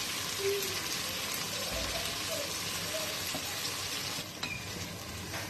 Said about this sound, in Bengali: শুধুমাত্র পেঁয়াজ বেরেস্তা করে মাংসটা একটু ভেজে নিলেই চলবে